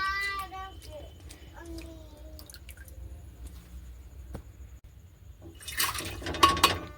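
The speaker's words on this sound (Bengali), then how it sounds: "ছোলার ডালটা ভালো করে ধুয়ে নিচ্ছি।" Chana dal is rinsed in water: close drips, wet squishes and sloshing, faint at first and growing into louder splashing and swirling near the end, with brief tonal sounds in between.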